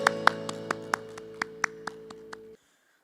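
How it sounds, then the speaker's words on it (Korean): A run of sharp, evenly spaced claps rings out over a sustained keyboard chord at an elementary-school church worship service, about ten crisp hits before everything cuts off to silence. "예수님께 영광의 박수 올려드리기 원합니다."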